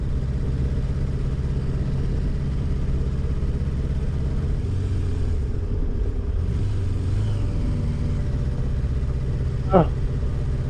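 Kawasaki Voyager XII motorcycle idling with the choke partly on, a steady low engine rumble running throughout, close by with even loudness and a slight shift in pitch midway.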